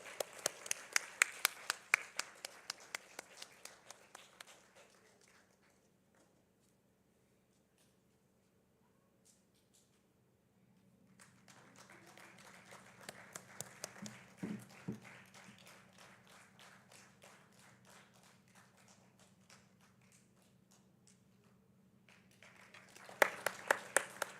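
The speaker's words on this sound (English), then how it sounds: "let's clap at least the normal way" Parents in an audience clap along in bursts: a rhythmic round of claps fades out, a near-silent pause follows, then clapping builds again, thinner and quieter, before a sharp loud flurry returns at the end.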